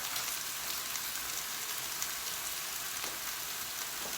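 Chicken pieces browning in a frying pan give a steady, dense sizzle and crackle close by, lasting throughout with no voices.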